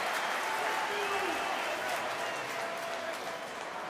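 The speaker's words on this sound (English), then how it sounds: "On comes John Afoa to raucous applause" A stadium crowd cheers and applauds at a Premiership rugby semi-final between Bristol Bears and Harlequins as replacement John Afoa comes on. The roar is steady and diffuse, with a commentator's voice faintly over it.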